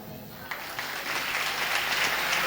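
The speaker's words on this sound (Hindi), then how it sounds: "आगे से पीछे तक ताली बजना चाहिए।" An audience at a Jain school gathering bursts into applause, the clapping swelling quickly and staying dense and steady to the end after a brief moment of talk.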